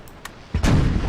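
Cannons aboard a warship open fire in a naval battle video game set in the North Sea, a heavy booming broadside erupting loudly after a quiet start and rumbling on to the end.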